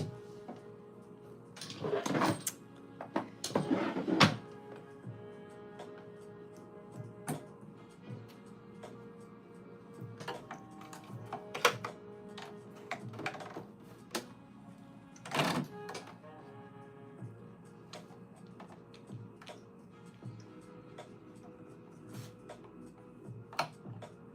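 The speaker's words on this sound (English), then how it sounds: "I'm gonna thread the machine and we're gonna get started sewing." A home sewing machine stitching a garment in short bursts, with rapid mechanical ticking and whirring that starts and stops several times, interspersed with quieter pauses and small clicks.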